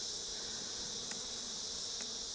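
Honey bees at an open Flow Hive make a steady, dense, close buzz that holds without pause, with no talking.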